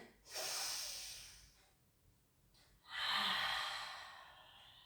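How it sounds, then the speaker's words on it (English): Slow, steady breathing during a Pilates stretch for balance and mobility: a long inhale through the nose, a pause, then a fuller exhale out through the mouth, close and fairly soft with no talking. "In through the nose, out through the mouth"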